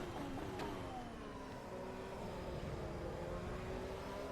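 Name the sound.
Ferrari SF25 car engine in video game Assetto Corsa EVO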